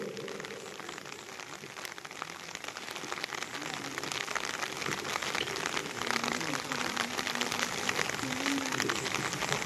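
Rain falling during an outdoor Telugu Christian worship gathering with children present, a steady, fairly faint patter of drops that thickens slightly toward the end, with faint voices underneath.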